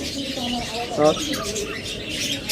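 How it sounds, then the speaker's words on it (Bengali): Captive doves and their chicks at a bird seller's fill the air with busy high chirps and soft coos, one louder call standing out, while a voice speaks faintly underneath. "কত চমৎকার বাচ্চা সহ ঘুঘু পাখি"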